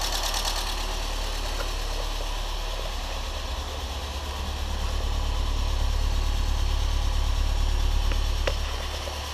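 A Renault Clio 16S engine idles steadily while warming up from a cold start, a continuous low rumble with a slight ticking clatter, heard close and alone with no talking.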